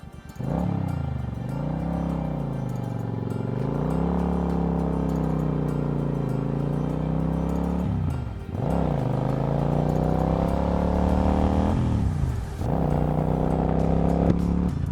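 A motorcycle is ridden on the way to the Red House, its engine droning steadily up close with repeated rises and falls in pitch as it shifts and accelerates, continuous and loud with no talking.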